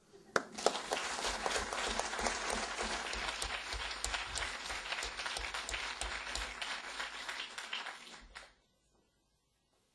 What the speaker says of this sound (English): So I think we should give you a second applause.